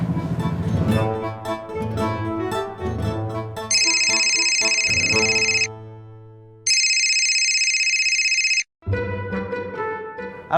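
A telephone rings with a bright, repeating electronic ringtone in a few long bursts separated by short gaps, following a stretch of melodic music.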